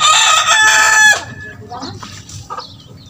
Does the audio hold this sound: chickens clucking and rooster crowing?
yes